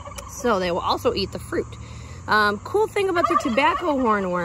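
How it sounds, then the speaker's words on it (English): Pet turkeys gobble in the background in several warbling bursts, fairly loud and overlapping with someone speaking over them. "you can hear my turkeys in the background chiming in"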